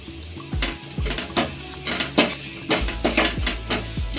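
Masala, salt and pepper powder being mixed in a pan for boiled egg curry: a spoon scrapes and knocks against the pan in repeated strokes over a soft sizzle, close and fairly loud, with no talking.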